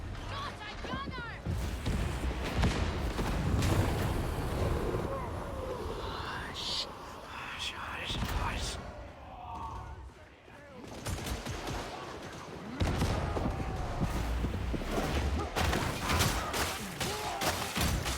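An enemy gunner fires in the Warhammer 40K game Darktide, dense rapid bursts of automatic gunfire rattling throughout, with brief lulls, under voices talking.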